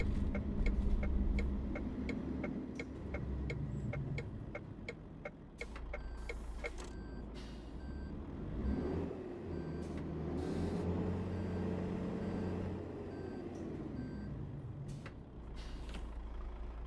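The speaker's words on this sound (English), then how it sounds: "That's the DAF XF95, 430 horsepower" A DAF XF95 430-horsepower truck drives in Euro Truck Simulator 2, its low diesel engine droning steadily with rising and falling revs, a ticking indicator clicking in rhythm and occasional sharp air-brake hisses, with no talking.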